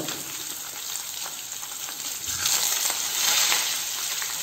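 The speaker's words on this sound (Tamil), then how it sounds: "கறி மீனை ஃப்ரை பண்ண போகிறோம்" Karimeen fish shallow-frying in oil on a flat tawa, a steady close crackling sizzle with dense spitting pops that swell louder in the second half.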